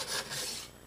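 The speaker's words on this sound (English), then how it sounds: "So I'm just going to kind of keep working on a" A rasp filing the edges of drilled holes in a wooden paddle, giving two or three close, coarse scraping strokes in quick succession, dry and gritty, with no talking.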